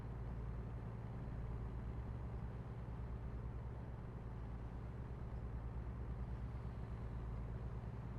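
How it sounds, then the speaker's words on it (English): A low, steady rumbling drone of a Peterbilt 567 truck engine idling in the video game American Truck Simulator, quiet and even with a faint rhythmic throb, no talking. "I'm just gonna listen to the engine for a while."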